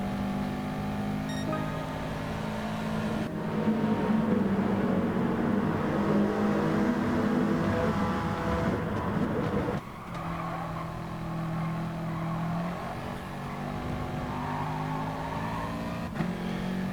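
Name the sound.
race cars on track in video game GT Sport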